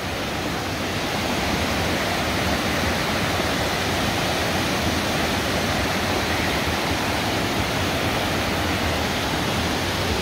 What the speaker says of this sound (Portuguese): A cascata tá aqui atrás.